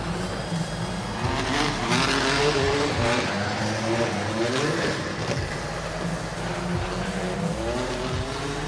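A Nissan Z33 drift car on a qualifying run at an FIA Intercontinental Drifting Cup event, its engine revving hard with tires squealing through the slide. The sound is loud and continuous, with no voices.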